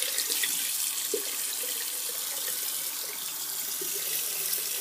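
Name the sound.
rinsing a razor blade under a running tap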